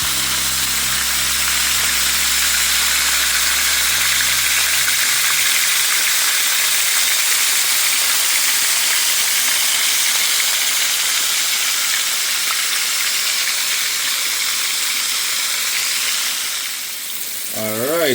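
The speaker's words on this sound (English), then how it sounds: "We're gonna fry the fish, guys, until they are nice and crispy" Fish frying in hot oil for Jamaican escovitch, a loud steady sizzle and hiss close by that holds throughout, with a low hum fading early and a brief voice at the very end.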